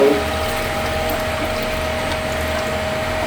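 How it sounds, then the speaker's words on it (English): Water flowing out of an Accutab chlorinator, a steady close trickling rush with a constant mechanical hum and no talking. "you'll see the water flowing out there"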